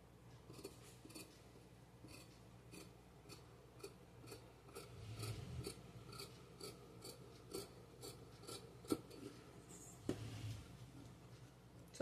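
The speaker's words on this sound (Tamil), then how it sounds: "இதை கட் பண்ணி எடுத்துக்கலாம்." Scissors snip through saree fabric to cut out a marked back neckline for a maxi dress, giving quiet, steady repeated rasping cuts close by with no talk.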